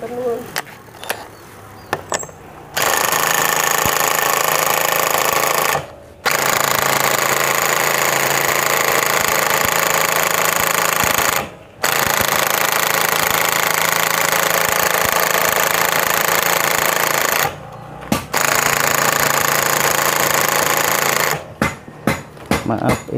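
Loud pneumatic impact wrench hammering in long sustained bursts on a 14 mm engine bolt of a Honda GL Pro motorcycle, several bursts separated by brief silent gaps, with a voice speaking near the start.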